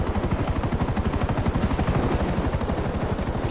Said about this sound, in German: Bring den Heli zurück und fertig.